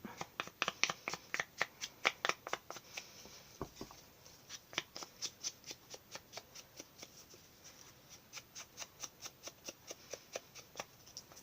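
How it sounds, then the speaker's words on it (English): Ink is sponged onto a card for card making, giving a quick, regular series of soft dabbing taps that slows slightly after a short pause, close and without talk. "keep layering up the ink onto your card and going all the way around, even including the sandy bit"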